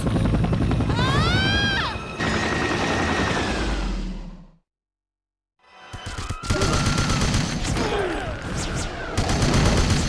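A loud helicopter rotor drones with bursts of gunfire over it in the video game 007: Everything or Nothing, cutting out briefly to silence before returning with more shooting.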